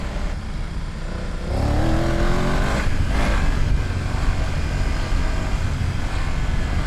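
A BMW F900 GS motorcycle rides off-road in Wales, its engine droning steadily and rising in pitch as the throttle opens, with wind noise and no talking.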